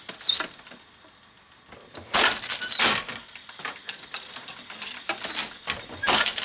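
A weaving loom working fine cottolin thread at 36 ends per inch. Sharp wooden clacks and rattling mechanical knocks repeat in irregular bursts as the shuttle is thrown and the beater swings, with quiet gaps between and no voices.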